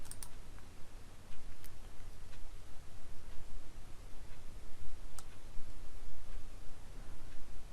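Sparse, faint computer mouse clicks at a desk, a few sharp ticks spread across a quiet room hiss while working in structural analysis software.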